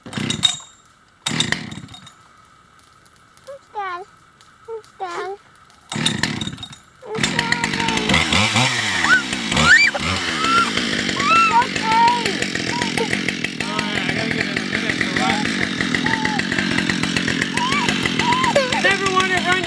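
A chainsaw, unused for a while and started on choke, fires after a few short pulls and bursts, then runs steadily and loudly close by, its engine revving and idling with voices faintly underneath.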